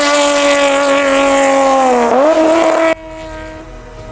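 Engine of a 1990s Honda NSX sports car, a loud, high-pitched harmonic wail that holds steady, dips briefly in pitch near the two-second mark, then drops abruptly to a quieter, thinner tone for the final second.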